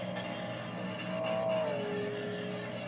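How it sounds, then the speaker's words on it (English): Race cars rolling past on a DASCAR knockout series track after a crash, a steady engine drone with a brief rising then falling whine as one passes mid-clip, fairly distant and continuous. "Cars rolling by."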